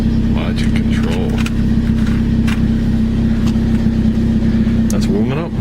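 A Toyota Corolla engine idles steadily while warming up just after start-up, a loud, constant low hum close by, with voices talking over it.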